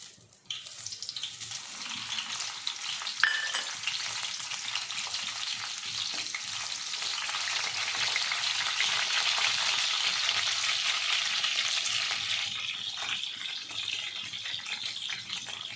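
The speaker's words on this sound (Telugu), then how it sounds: "ఆయిల్ బాగా హీట్ ఎక్కినాక పచ్చిమిర్చి వేసుకోవాలి" Green chillies fry in hot oil, a steady loud sizzle that holds without a break across the whole stretch, with no voices over it.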